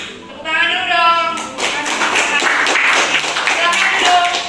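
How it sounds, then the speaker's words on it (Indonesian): A class claps hands after a group presentation, with brisk clapping that mixes with voices and chatter from the room. "Tepuk tangan dulu dong."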